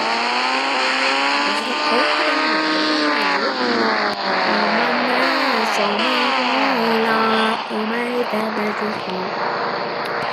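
An Indian motorbike engine in a video game revs and shifts pitch continuously, loud and close, with rising and falling whines and no pauses.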